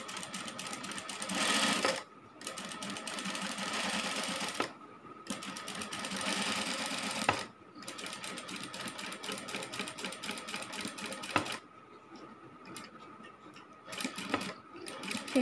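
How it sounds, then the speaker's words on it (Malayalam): An electric sewing machine stitches fabric during beginner tailoring practice, running in several long rapid whirring bursts separated by short pauses, close and steady. "തയ്ച്ചു തുടങ്ങാം."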